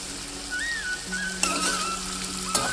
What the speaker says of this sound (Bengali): দেখতেই পাচ্ছ সিম আর আলু কষানো হচ্ছে।